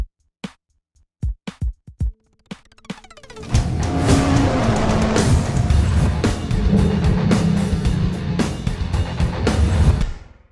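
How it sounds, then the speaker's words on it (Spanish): A 2023 Toyota Fortuner GRS (Gazoo Racing Sport) SUV starts off after a few sharp clicks and knocks, then its engine rises into a loud, steady driving drone with road noise that continues to the end. "vamos montados en un Toyota Fortuner GRS, que significa un Gazoo Racing Sport"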